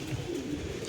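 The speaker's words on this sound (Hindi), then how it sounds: "देखो एक कबूतर नीचे उतर गया है," A soft pigeon coo, low and murmuring, heard faintly at a short distance.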